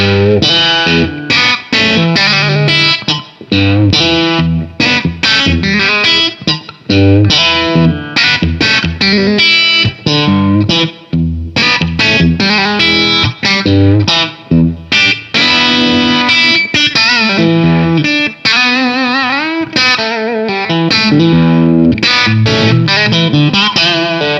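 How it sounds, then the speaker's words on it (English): A heavily effected electric guitar with reverb, played through an Ernie Ball Expression Tremolo pedal, plays a continuous run of chords and notes, loud and full, with a washy, spacious tail filling the gaps between strums. "Let's get into a little bit of reverb, little splash."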